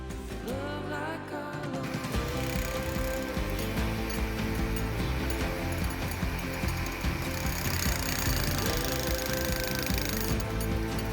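Large jackhammer chipping cement render off a house facade, a continuous dense rattling roar that stays loud and steady throughout, with no talk.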